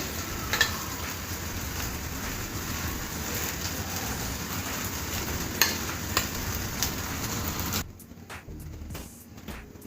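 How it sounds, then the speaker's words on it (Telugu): Cheese garlic bread slices frying in a pan give a steady soft sizzle with faint scraping and stirring clicks, then the sizzle drops off abruptly near the end. "ఇప్పుడు ఇది కూడా మనం రెండు వేయించుకున్నాము"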